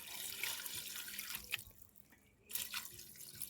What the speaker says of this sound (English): Add a little more water to it.